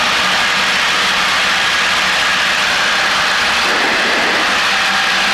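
Fixed-pitch airplane engine held near 2,000 RPM in the pattern for runway 10, a loud, steady droning roar inside the cabin with no speech.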